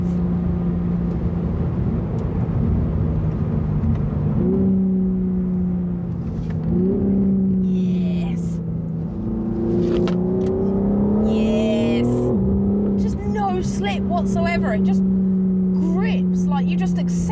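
A BMW M4 CSL pulls hard on a smooth road, its engine note climbing through the gears in rising sweeps with brief dips at the shifts. The drone stays loud and continuous, with someone talking over it at times.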